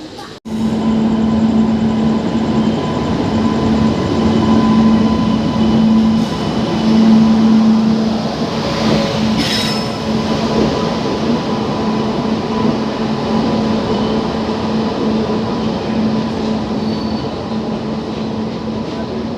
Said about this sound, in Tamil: West Coast Superfast Express has arrived on platform.